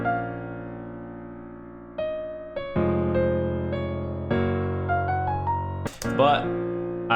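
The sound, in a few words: piano melody pitched up in a beat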